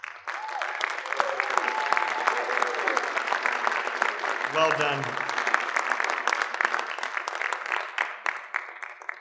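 A conference award audience at a high school claps for a nominee, with loud, dense, sustained applause running throughout while a voice speaks briefly over it partway through.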